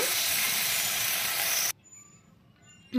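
Meat with potatoes fries in hot oil in a pan, a loud, close broadband sizzle that cuts off abruptly after under two seconds, followed by near silence before the sizzle returns.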